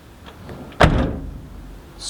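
A Nissan Skyline R33 car door shuts with a single solid thunk, loud and close, after a quiet moment, its resonance fading over the next second.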